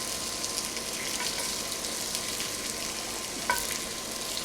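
Pork chops returned to a pan with leftover drippings, oil poured off, sizzle steadily and loudly up close, with one faint clink of a utensil partway through.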